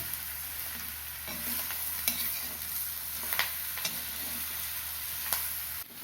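Steady sizzling of bitter gourd frying in a pan with salt and turmeric, with occasional scraping and clinks of a stirring spoon; no voices.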